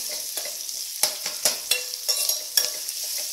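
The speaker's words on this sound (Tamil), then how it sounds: "கொஞ்சம் வதங்கட்டும் மேடம் ஆனியன் கொஞ்சம் வதங்கட்டும்" Onions sautéing in a pan for moong dal sambar crackle in a steady close sizzle, broken by sharp rhythmic scrapes and taps of a spoon stirring, with no talk.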